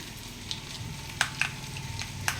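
Mustard and fenugreek seeds sizzle in hot coconut oil, a close, steady low sizzle punctuated by about half a dozen sharp, scattered pops.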